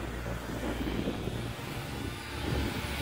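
An Eachine E58 drone, a DJI Mavic Mini clone, flies outdoors in wind, with a faint, continuous propeller buzz blending into a soft, airy background rush.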